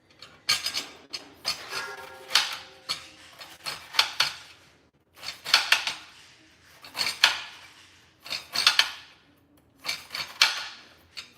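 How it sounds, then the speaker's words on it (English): A knife slices the rind off a pineapple for juicing, producing repeated crisp, scraping cuts with short knocks on a board, each stroke a broadband rasp in uneven bursts, close and clear with no talking. "So what I'm gonna do is cut off the rind."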